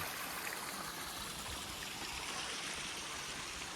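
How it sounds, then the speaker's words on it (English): A rain-swollen creek on the Appalachian Trail tumbles over little falls, producing a continuous, loud watery rush that stays even throughout. "a bunch of little waterfalls everywhere. It's really loud down here."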